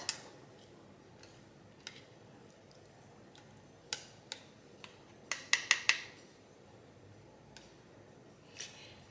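A spoon stirring sour cream and cheese into a bowl of chili with beans, heard as sparse light ticks and clinks against the bowl, with a quick cluster of taps in the middle, close and quiet.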